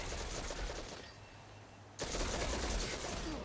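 Rapid automatic gunfire from a weapon in a video game comes in dense, loud bursts that stop for about a second and then resume just as hard.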